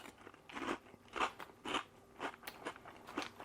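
Crunchy peanut snack chewed close to the mic, a run of about seven crisp, crackling bites spaced roughly half a second apart, fairly quiet with no talking.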